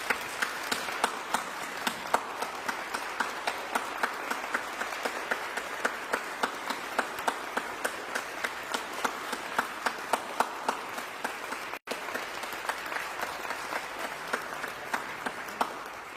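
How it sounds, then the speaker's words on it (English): An outdoor audience at a light festival claps steadily for about sixteen seconds, a dense even patter at moderate distance that continues after a brief cut. "Can we give them a really, really rousing round of applause?"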